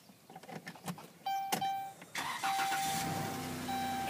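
A 2013 Dodge Grand Caravan SXT wheelchair van with a 3.6 six-cylinder engine cranks with a brief whir, catches, and settles into a steady idle with a faint whine, heard from inside with no talk.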